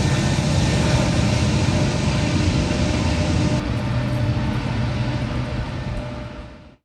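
Westbound intermodal freight train passing in Pennsylvania railfan country, a loud, continuous rumble and roar of rolling cars that holds steady, then fades out at the end.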